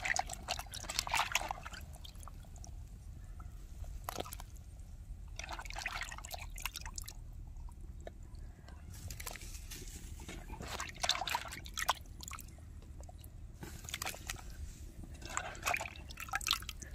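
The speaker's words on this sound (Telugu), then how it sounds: "మన పులుసు అనేది మసులుతుంది. ఇప్పుడు అందులో చేప ముక్కలు వేసుకుందాం" Fish pieces drop into a simmering fish curry broth in a village kitchen, giving bursts of wet splashing and bubbling that rise and fall every few seconds over a low, steady simmer.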